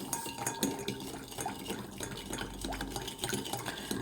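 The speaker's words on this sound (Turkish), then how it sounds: "Önce sıvılarımı bu şekilde çırpıyorum." Liquid ingredients, including oil and water, are whisked in a bowl for a quick-baked cocoa cake, making continuous close scraping and light clinking of the whisk against the bowl, with a busy, uneven rhythm.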